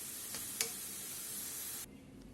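Tomatoes for a homemade chutney sizzle steadily in a pan, a continuous close frying hiss with a couple of faint ticks, then the sizzle drops away abruptly near the end.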